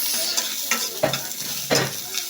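Onion and garlic sauté in hot oil for sarsyadong fish, a bright close sizzle broken by about five rhythmic stirring scrapes of a spatula across the pan.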